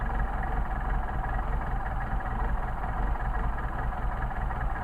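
An engine fitted with Solex carburetors runs close by at low revs, a steady dull rumble and hum without talk over it.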